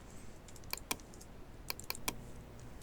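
Computer keyboard keys pressed during Photoshop work, a few quiet, crisp clicks in two small bursts, close and faint, with no talk.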